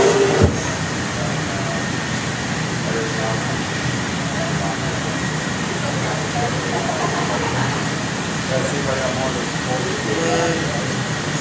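A workshop vacuum runs as a loud, steady broadband roar throughout, with speech mixed in underneath.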